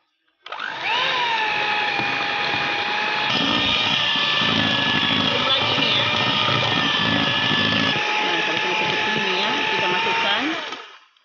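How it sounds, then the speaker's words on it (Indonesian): An electric mixer runs steadily at low speed, kneading dough for Lebaran cookies, a continuous whirring motor hum lasting about ten seconds with a slight shift in tone partway through, close and fairly loud. "sekarang kita mixer dengan speed rendah dulu ya"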